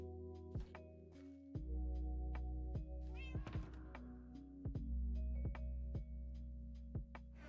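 A cat meows in a game set in a storage room, a brief cry heard among soft musical tones and dull thunks, with no one speaking.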